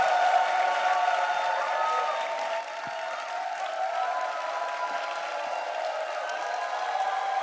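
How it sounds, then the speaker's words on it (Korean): A church youth retreat congregation claps in welcome for the senior pastor at an evening revival service, a steady wash of applause with a few scattered cheers, moderately loud and continuous throughout. "우리 박수로 환영하겠습니다."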